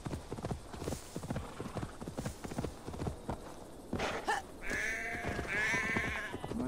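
Sheep bleat several times in Assassin's Creed Valhalla, preceded by a steady run of hoof clip-clops, with the bleats rising clearly above the game's ambient background.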